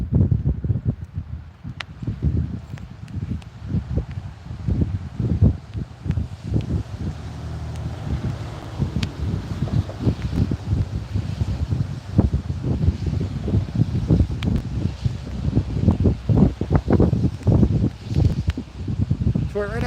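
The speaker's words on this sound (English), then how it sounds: "Here comes the wind." Gusting wind over open water on a rainy fishing outing, a rough rushing roar with buffeting mic noise that swells and surges throughout, with voices talking over it.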